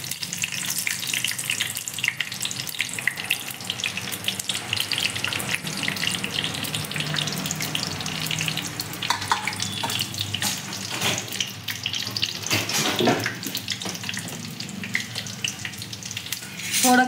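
Spices, bay leaf and cumin sizzle in hot oil for dal gosht, a long, steady crackling hiss with occasional clinks and stirring scrapes, fairly close and unbroken.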